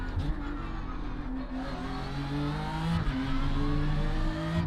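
A BMW M4 GT3 race car engine in iRacing drones steadily at high revs, its pitch climbing and shifting through gear changes in a continuous, loud simulated racing run with no talk.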